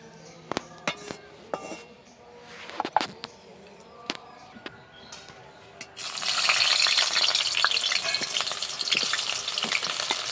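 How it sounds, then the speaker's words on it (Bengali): Mustard oil poured into a kadai for frying jackfruit, with scattered utensil clinks and taps at first, then a loud, steady sizzle that starts abruptly and continues to the end. "এবার এঁচোড়গুলোকে ভাজবো, তার জন্য কড়াইতে দিয়ে দিচ্ছি সর্ষের তেল"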